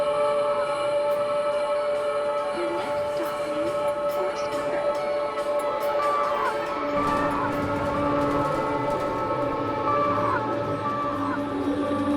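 The 7 train runs through Queens with a steady, loud rumble and metallic rail whine, along with faint city background noise and a sustained tonal hum.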